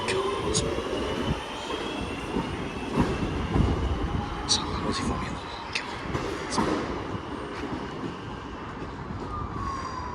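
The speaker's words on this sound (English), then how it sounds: "23323 heading off to Manchester Piccadilly" Train departing Stoke-on-Trent station for Manchester Piccadilly, a close rumbling roll with rhythmic wheel clatter and high wheel squeals as it moves off, with voices faintly in the background.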